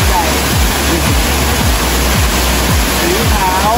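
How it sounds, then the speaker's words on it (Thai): Nao Tak waterfall on the Myanmar bank of the Moei River roars as a loud, continuous broadband rush of falling water, with faint low rumbling pulses underneath. "สีขาว ของน้ำตกเนาะตาก ฝั่งพม่าครับผม"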